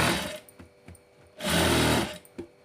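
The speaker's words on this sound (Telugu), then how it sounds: "ఎక్కడి నుంచి అయితే వస్తుందో అక్కడికి స్టిచ్ అనేది వేసుకోండి" A sewing machine stitches an invisible piping seam into blouse fabric, running in short close bursts broken by brief pauses, then one longer loud steady run.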